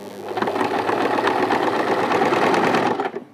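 A sewing machine runs at a steady, moderate pace stitching along the edge of bias-cut fabric, its rapid rhythmic needle clatter close and loud before it stops abruptly near the end.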